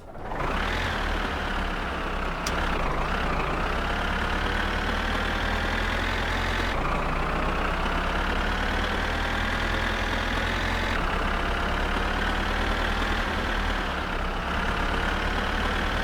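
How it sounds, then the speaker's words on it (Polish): A steady, loud tractor engine idles continuously in the video game My Summer Car, a low rumbling drone with a few small shifts in pitch and no talking. "Traktor jest dość głośny, więc przyciszyłem grę."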